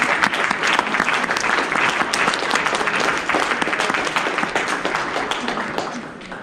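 Audience members at a group piano teaching conference give presenters a round of applause, close, loud, continuous clapping that stays strong throughout and eases slightly toward the end.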